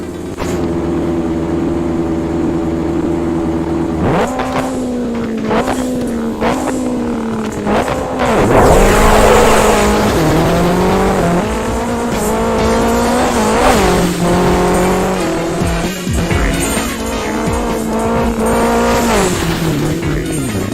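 A Citroën WRC rally car races on a dirt stage in the Richard Burns Rally video game, its engine loud and continuous with rising and falling revs through gear changes, and tires squealing and skidding at times.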